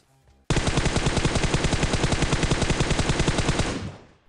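Sustained VSS gunfire in the video game Battlegrounds Mobile: a loud, rapid, even burst of shots running about three seconds after a quiet start, then trailing off.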